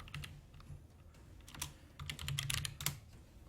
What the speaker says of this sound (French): excusez-moi des bruits de clavier